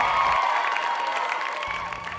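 Applause and cheering from a small family group watching a live broadcast in Canada while waiting for arriving relatives, a steady mix of clapping and voices that holds evenly throughout.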